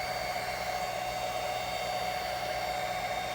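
A hair dryer runs steadily on power from a 1200-watt PowerJack modified-sine-wave inverter, a constant airy whoosh with a faint electrical buzz, unbroken and fairly close, with no talking.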